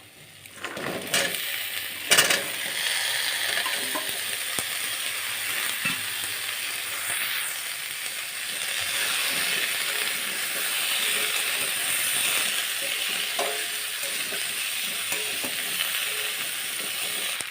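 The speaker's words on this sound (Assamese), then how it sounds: "আদা নহৰু দিয়াৰ পিছত ভালকৈ ভাজি ল'লোঁ গোটেইখিনি" Capsicum, potato, kohlrabi and peas frying in hot oil with ginger and garlic, giving a steady close sizzle with a few scraping stirs near the start, no voices.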